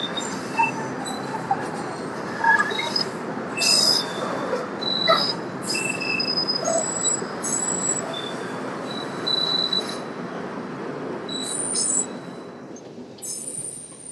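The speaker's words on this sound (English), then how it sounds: "that train just tilts like crazy when it goes here" A Chicago rail car tilts through a curve, its wheels letting out repeated high metallic squeals and screeches over a steady rumbling roll, loud and close from inside the train, easing off near the end.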